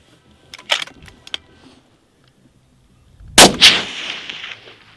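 A hunting rifle fires one loud, sharp shot at an 800-yard target outdoors, and the blast rolls off into a fading echo. A few light mechanical clicks come a couple of seconds earlier, with no talk.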